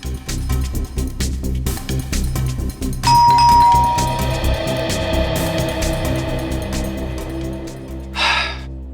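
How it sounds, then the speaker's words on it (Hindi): A doorbell chimes once with a clear ringing tone that slowly fades, set against a busy bed of dramatic background music, followed by a short burst of noise near the end. "आप एक बार और घंटी बजाने का कष्ट करें।"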